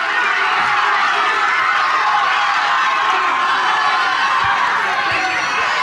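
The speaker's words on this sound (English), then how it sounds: "The crowd has been in this game all evening, and I tell you, they are loud now" A loud, dense crowd roars and cheers without letup at a Junior B championship final, a steady wall of voices with scattered whoops and shouts.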